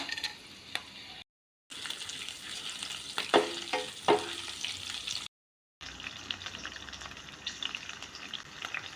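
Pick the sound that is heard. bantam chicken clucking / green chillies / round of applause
green chillies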